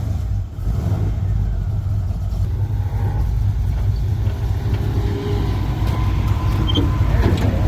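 A clean Chevy 1500 pickup's engine runs steadily close by, a loud continuous low rumble with slight fluctuations, and no talking.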